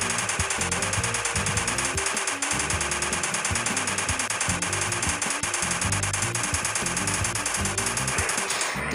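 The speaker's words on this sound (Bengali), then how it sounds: "আর মেশিন গান দিয়ে এক এক করে সবগুলোর অবস্থা শেষ করে দিয়ে দিব" A machine gun fires in continuous, dense rapid bursts during a dinosaur attack in the Indian Bike Driving 3D mobile game, with loud clattering shots filling the whole stretch without pause.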